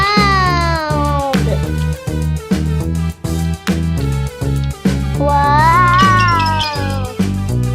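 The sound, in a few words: cat meowing in a cooking video game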